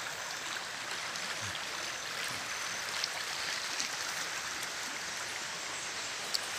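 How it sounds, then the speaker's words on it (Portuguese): Small stream on a rural smallholding, fed by water coming down from a waterfall above, a faint steady rushing and trickling wash heard alone without talk. "Que a água aqui vem de cima da cachoeira,"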